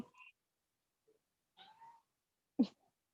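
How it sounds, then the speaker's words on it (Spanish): A cat meows a few times, faint and brief, with short separated cries and one slightly louder call near the end, in a quiet room during an online class. "o ya está maullando"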